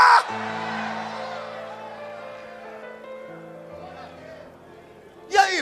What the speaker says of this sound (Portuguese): solta um grito de glória